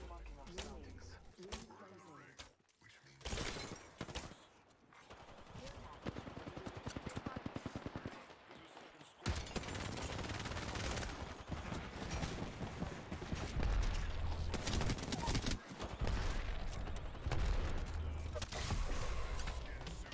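Rapid gunfire rattles through a shooting video game, bursts of automatic fire and single shots coming at varying distances, growing denser and louder toward the end, with talk over it.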